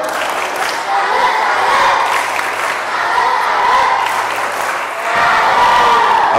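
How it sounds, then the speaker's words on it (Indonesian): Children gathered at a church youth camp in Palasari clap together in a loud, sustained round of applause with cheering mixed in, and a brief dip before the clapping swells again. "Tepuk salut untuk mereka bertiga."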